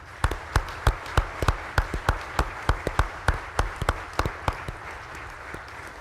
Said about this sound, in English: Please give me a round of applause for these two gentlemen.